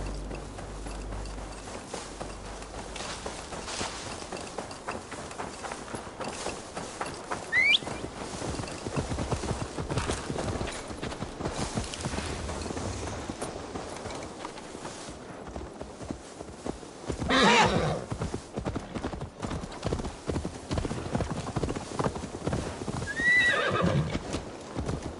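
In Assassin's Creed Valhalla, a horse's hooves clip-clop steadily at a walking pace throughout, fairly quiet, with a couple of short neighs and whinnies rising above the steps.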